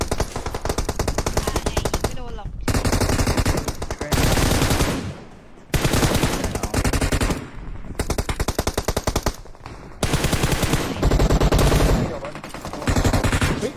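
Long, rapid bursts of MG13 machine-gun fire in the video game MELA blast loud and close, several seconds each, split by short pauses, with a voice shouting in between.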